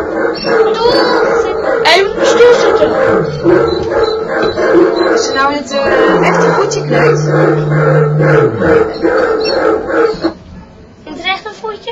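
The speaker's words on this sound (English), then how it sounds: "So now the dog is angry." A dog barks angrily and breaks into a drawn-out howl and whimpering yips, loud and close in a home, with people talking and a baby's sounds mixed throughout.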